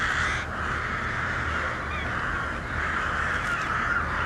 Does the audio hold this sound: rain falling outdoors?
no